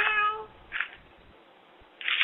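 A cat meows close by, one clear harmonic meow at the start followed by two shorter, noisier cries after pauses, heard thinly as if over a phone line.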